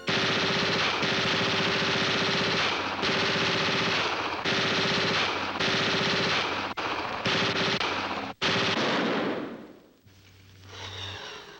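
Bursts of rapid machine-gun fire in a film excerpt, loud and close, repeating in several long volleys before a sharp final shot and sudden quiet, with a low hum at the end.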